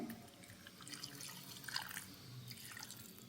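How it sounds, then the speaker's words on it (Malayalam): Orange juice trickles quietly over mixed cake ingredients for an eggless plum cake, a soft, close, steady liquid pour with a few faint drips. "നമുക്ക് കുറച്ച് ജ്യൂസ് ഒഴിച്ച് കൊടുക്കാം. ഇത് ഓറഞ്ച് ജ്യൂസാണ്."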